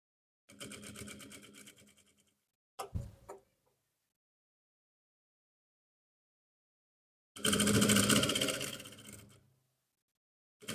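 A sewing machine stitches along the edge of a trouser pocket in short bursts, a rapid mechanical ticking whir that starts and stops three times with quiet gaps between, close and clear.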